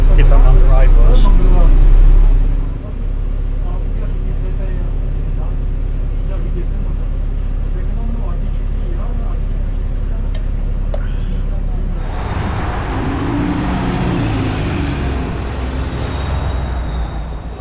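Ride inside a bus, a steady low engine rumble and interior road noise running throughout, with a louder rattling surge near the end as the vehicle moves on.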